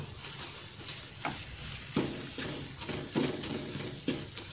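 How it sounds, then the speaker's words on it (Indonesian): Thick dodol batter is stirred in a pan with a soft sizzle and rhythmic scraping strokes about every half second, no talking. "Kita aduk dulu."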